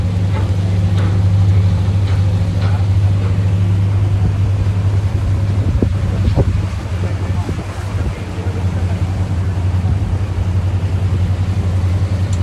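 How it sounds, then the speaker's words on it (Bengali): A boat engine hums steadily as a boat turns on the water on the way to Dubai, a loud constant low drone with wind and water noise, while voices talk faintly in the background. "এই যে নৌকার মধ্যে উঠলাম, এখন নৌকা ঘোরাচ্ছে।"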